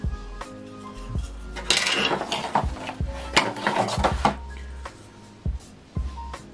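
Metal spoons from a gift set clink and clatter as they are handled, with irregular light knocks and jingles, soft and fairly close.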